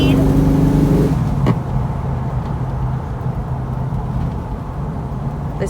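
A 1973 Ford Mach 1 heard from inside as it drives, its engine droning loudly before easing off after a brief bump, then a steady rumble of road and engine noise, with someone talking throughout.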